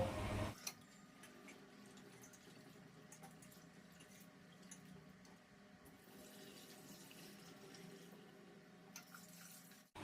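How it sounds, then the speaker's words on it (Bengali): Gobindobhog rice is washed in water, with faint sloshing, trickling and small drips continuing quietly and evenly in a kitchen for about ten seconds. "এখন চালটাকে ভালো করে ধুয়ে নেব"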